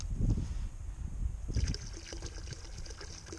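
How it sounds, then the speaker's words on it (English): Cleaning solution being poured into a bucket of hose and sink water for washing a kayak, a soft trickling, gurgling splash that rises and falls over a few seconds, with no speech. "So we're just gonna pour some of this in here."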